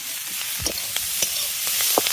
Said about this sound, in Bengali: এবার মশলাটাকে ভালো করে একটু ভাজা ভাজা করে নেবো পেঁয়াজ কলিগুলোর সঙ্গে